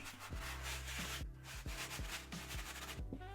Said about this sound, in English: then just give the outsole a really solid scrub